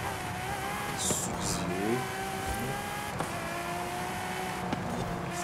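A Ferrari race car in Forza Horizon 5 with a steady high engine whine and gear shifts during fast driving, while someone talks over it.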